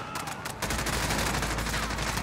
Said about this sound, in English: They're firing on civilians!